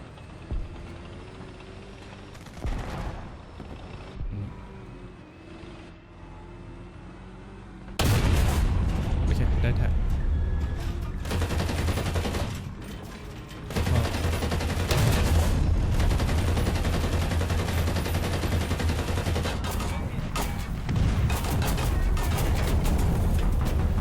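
Tank gunfire in the War Thunder video game: quieter rumbling action gives way to loud, dense bursts of cannon and machine-gun fire with heavy booms that continue near and steady through the second half.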